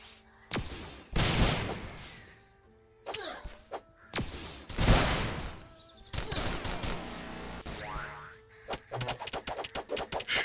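Enemies fire at the player in modded Starbound, a series of sharp video-game gunshots and bursts arriving in uneven clusters, ending in a fast rattling volley of repeated shots, with no talking over them.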